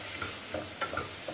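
Rice, carrots and onion fry together in a pan, a steady close sizzle with soft scraping stirs and small crackles throughout, no voices.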